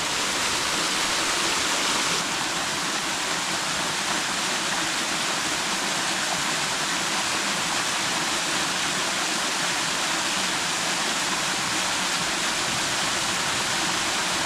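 A roughly 30-foot waterfall at Fall Run Park in Pittsburgh roars as a loud, continuous rushing wash of water, close and unbroken for the whole stretch, with no talking over it.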